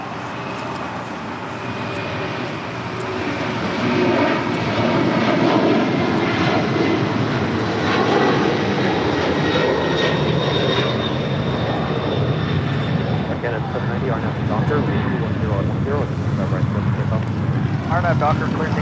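A Boeing 767-300 converted freighter rolls for takeoff on runway 25 right at LAX, a loud, steady jet engine roar building and holding close by, with radio chatter from the tower heard in the background.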